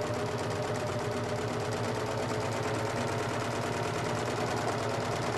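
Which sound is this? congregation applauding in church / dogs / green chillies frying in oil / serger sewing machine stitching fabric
serger sewing machine stitching fabric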